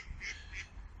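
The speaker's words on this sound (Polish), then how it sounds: "I kaczki też tam będą, bo się zameldowały." Ducks give two short, faint quacks in quick succession at some distance against a quiet outdoor background.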